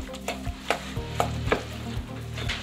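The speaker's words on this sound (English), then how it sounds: "We're gonna start by mixing this up." A spoon sweeps through a bowl in an even rhythm of about two strokes per second, mixing black pepper, Goya seasoning, Italian seasoning and all-purpose seasoning for Guyanese pizza. The scraping strokes are close and steady, with no voices.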